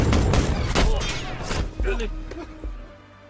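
Gunfire from a firefight in a sniper war film, with a soldier shooting back at enemies: several loud, close shots and crashing impacts in quick succession, with lower booms trailing off toward the end.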